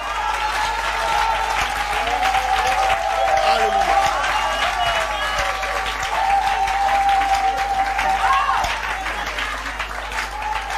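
A church congregation applauds steadily and loudly for the full stretch, a dense wash of clapping with a sustained tone and some voices mixed in, swelling and easing slightly over time.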